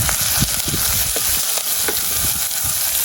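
Slit green chilli frying with onions and curry leaves for a Jaffna fish curry, a steady close sizzle with scattered soft stirring taps and clinks, no talking.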